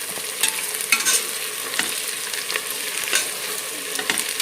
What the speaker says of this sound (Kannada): ಇನ್ನೊಂದು ಸ್ವಲ್ಪ ಫ್ರೈ ಆಗಬೇಕು